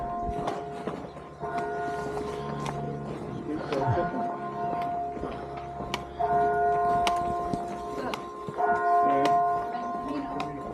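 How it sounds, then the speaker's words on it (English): Church bells ring steadily with overlapping tolls in a small town on the Camino de Santiago between Atapuerca and Burgos, heard outdoors amid footsteps and occasional voices in the background. "We've got the church bells going off."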